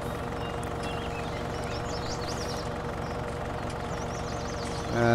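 A new tractor in Farming Simulator 19, its engine idling with a steady mid-pitched drone, birds chirping faintly above and the engine swelling louder right at the end.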